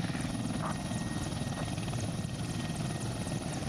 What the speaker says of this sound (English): that helicopter you gave me was a UH-60, not a Chinook